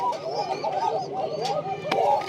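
A breeding pair of birds, probably geese, gives repeated nasal honking calls in quick overlapping bursts, fairly close but moderately quiet, with a couple of sharp clatters in between.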